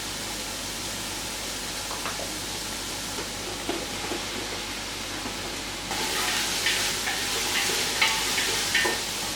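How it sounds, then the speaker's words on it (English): Garlic sautés in a pan for vegan moussaka with a constant close sizzle and occasional stirring scrapes; the frying grows louder partway through. "So this I'm going to continue saute."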